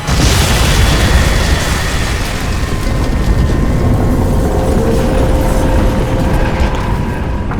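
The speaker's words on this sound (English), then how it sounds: "Explosion imminent." A huge, sustained explosion in the video game Crysis 2 Remastered: a loud, dense roar of rumbling blast noise that persists at full strength for several seconds, with no talk over it.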